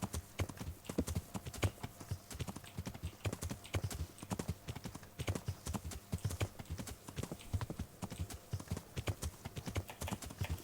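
Horse hooves clip-clop steadily in a medieval video game set in Bohemia, a brisk, even rhythm of close, loud hoofbeats running throughout with no talk over it.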